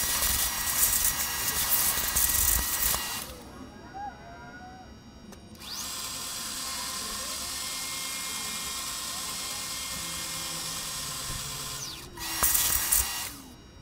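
A milling machine with a manually fed quill cuts into a metal round-over plane body, giving a steady high whine in long runs with brief quieter pauses between passes. The cutting sounds close and loud, with no talking.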